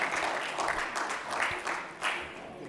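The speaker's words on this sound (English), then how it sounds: "A round of applause, ladies and gentlemen, for our fantastic session" Hall audience applauding after a conference session, a brief uneven burst of clapping with louder swells rising and falling over a few seconds.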